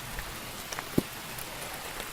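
Cold rain falling outdoors beside a Chevy K1500 pickup truck: a faint, steady soft hiss with one sharper drop-like tap midway, no voices.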